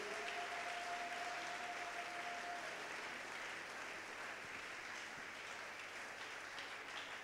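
A church congregation applauding steadily after a scripture reading, a sustained wash of clapping that sounds somewhat distant and fairly soft.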